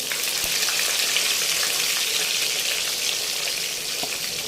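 Stuffed bitter gourds (karela) fry in hot oil, giving a loud, dense, continuous hiss and sizzle close at hand, steady throughout with a few faint knocks and no talking.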